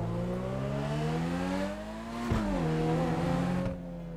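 Benefactor Krieger sports car engine in GTA 5 accelerating hard, a loud steady roar climbing in pitch through gears with a brief shift dip midway, close and continuous with no talk.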